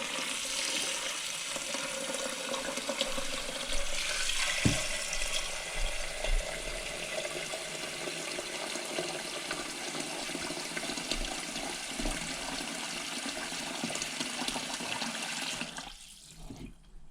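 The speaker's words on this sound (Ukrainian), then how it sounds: "і заливаємо водою" Water poured over salted carp being soaked for taranka: a steady, close rush of pouring water runs for about sixteen seconds, then stops abruptly.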